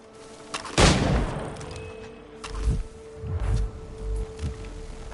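Cannon fire in a PS4 action video game booms several times, one strong blast near the start and a run of deep, thudding shots later, over a steady game ambience with a faint tone.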